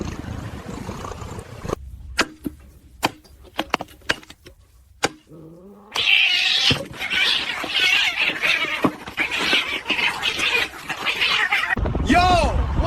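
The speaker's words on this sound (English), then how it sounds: "That's a cat!" A cat meows and caterwauls amid a busy, noisy scene with sharp clicks and rustling, its cries rising clearly near the end while people talk.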